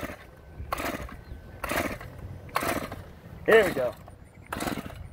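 Brand-new Shindaiwa T344 string trimmer engine being pull-started, six rhythmic rasping pulls of the starter cord roughly a second apart, close by, with a brief spoken remark between them.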